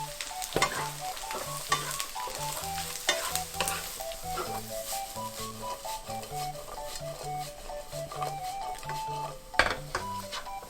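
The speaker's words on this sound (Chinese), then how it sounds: "加入红萝卜一起拌炒" Carrots and browned ginger stir-fried together in a pan, a close, crackling sizzle with rapid scraping spatula strokes and clinks against the pan, steady and busy with no voices.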